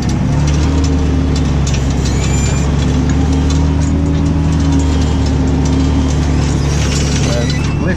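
Farm tractor pulling a plough across a field while ploughing headlands, its engine droning steadily and loudly at close range with a constant low hum throughout, mechanical rattles over the top.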